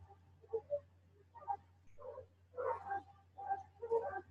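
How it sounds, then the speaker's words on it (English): Dogs bark in the background, faint and distant: a few scattered yips and woofs come in irregular bursts over a steady low hum. "there's like serious dog barking racket going on"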